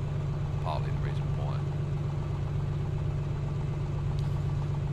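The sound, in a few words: Piper PA-24 Comanche aircraft engine running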